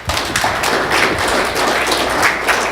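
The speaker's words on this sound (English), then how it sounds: "Can we give him one more round of applause?" An audience at a nuclear legacy and climate change summit breaks into steady, lively applause for a speaker, a continuous patter of many hands clapping at close range with no talk.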